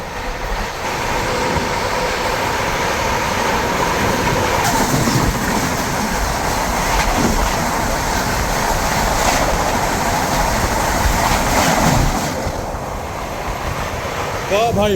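The Trikural Express roars past a Rajdhani train at 130 km/h, with a loud, sustained rush of wheels and wind, and rattling bursts as the carriages sweep by up close. The noise eases slightly toward the end.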